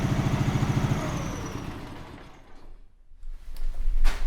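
An MT motorcycle engine converted to run on LPG revs up with a pulsing rhythmic beat, fades into a quieter lull, then picks back up in a short burst near the end.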